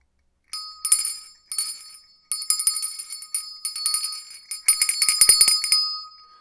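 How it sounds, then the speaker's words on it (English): A small bell rings in a series of bright, clear dings, single strikes at first, then quicker repeated rings, close and alone with no talking. "I will ring the bell. The physical bell."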